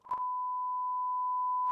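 A censorship bleep over a word in a French conversation about flirting: one loud, steady pure tone lasting nearly two seconds, alone, with only faint clipped sounds at each end.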